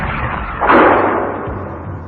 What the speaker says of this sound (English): the mighty gun fires a shell at a tanker on the canal